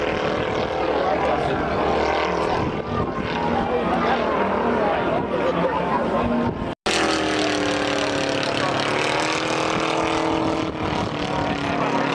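A propeller aeroplane drones steadily overhead at a WWI Carpathian battle reenactment in Humenné, its engine tone holding loud and continuous under crowd noise and speech, with a brief dropout midway.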